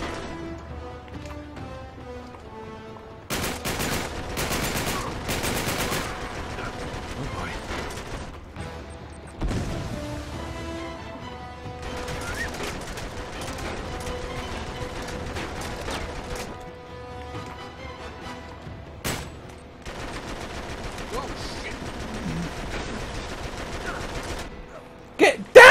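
Machine gun fire in Uncharted 3: Drake's Deception, long rattling bursts and scattered shots over a steady game soundscape with music, fairly close and loud.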